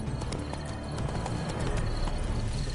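Horse hooves beat in a quick, regular galloping rhythm in The Witcher 3: Blood and Wine, moderately loud over a steady game ambience.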